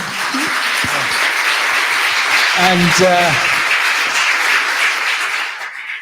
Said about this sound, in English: we'll finish with a round of applause for Hans in a second